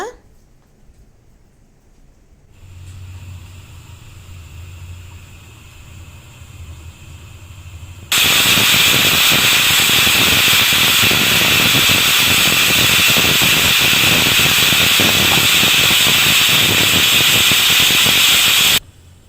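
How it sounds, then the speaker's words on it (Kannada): Pressure cooker on the stove cooking sambar, its lid closed, first a low quiet hiss and simmer, then a sudden loud, sustained steam whistle and hiss that holds steady for about ten seconds, close and intense. "ಲಿಡ್ಡನ್ನು ಕ್ಲೋಸ್ ಮಾಡಿ ಎರಡು ವಿಷಲ್ ಒಡ್ಸ್ಕೊಳ್ಳೋಣ"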